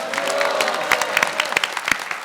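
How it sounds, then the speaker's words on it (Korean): Studio audience at a live New Year special town-hall broadcast in Incheon claps steadily, a dense wash of hand claps with a few louder individual claps standing out nearby. "다 같이 한번 박수 치면서 함께 인사할까요?"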